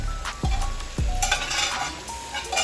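Saltfish for Jamaican ackee and saltfish dropped into a hot pan and stirred, two thumps and scrapes over a bright, loud, close sizzle with no voices.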